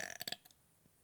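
A child lets out a short, quiet burp in a few quick bursts, then a faint trailing gulp in an otherwise silent room.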